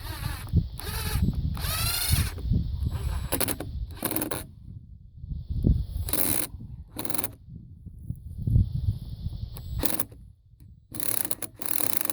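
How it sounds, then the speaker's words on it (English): A power drill whirs in several bursts as a screw is driven, with short pauses and handling clatter between the runs, close by. "Put my drill bit in and my first screw."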